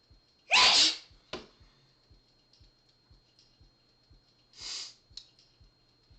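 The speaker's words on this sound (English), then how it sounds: "I have to sneeze, and I don't want to." Two sharp sneezes break out a few seconds apart, the first loud and close, the second softer, over a quiet room with a faint regular ticking in the background.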